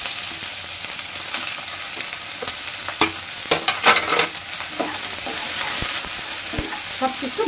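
Chopped onion, black cardamom and cloves fry in hot oil in a pan, giving a steady bright sizzle broken by a few louder crackles and stirring scrapes, close and without talk.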